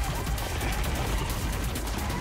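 Rapid enemy gunfire in the action game Kill Knight, a dense, continuous barrage of shots that stays loud and steady throughout, with music or effects blended in and a voice faintly under it.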